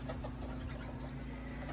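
A brooding hen that has just abandoned her six chicks clucks softly amid farmyard noise, a steady low hum running underneath throughout.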